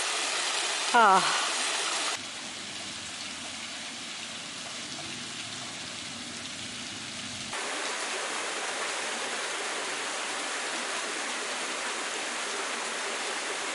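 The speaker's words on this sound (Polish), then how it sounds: "Woda, wodospad" Waterfall at Moses' Spring in Jordan, a continuous broadband rush of falling water heard steadily throughout, with a brief voice at the start and the level shifting slightly partway through.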